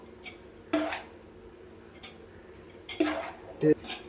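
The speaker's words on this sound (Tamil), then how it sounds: "மசாலா ரைஸை எடுத்து இரும்பு கடாயிலையும் ஃப்ரை பண்ணிக்கலாம், இண்டோலியம் கடாயிலையும் ஃப்ரை பண்ணிக்கலாம்" Marinated masala rice being stir-fried in a kadai on high flame, with several sharp clanks of a metal spatula against the pan in irregular bursts, close and loud, and no sizzle standing out beneath them.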